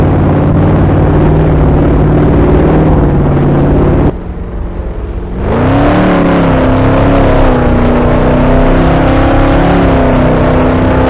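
A swapped engine in a car in the Roblox game Taxi Boss revs loudly and close, a droning tone that drops out briefly, then climbs back with a rising whine and keeps roaring steadily.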